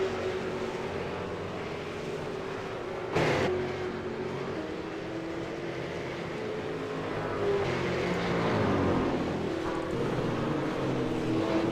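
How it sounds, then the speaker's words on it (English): A V8 Supercar engine in the iRacing sim, a battered Oceanic Racing car at Road America, droning steadily with shifting pitch as it accelerates and a brief sharp burst near the middle, no talking. "he's driving a very beaten up Oceanic Racing car"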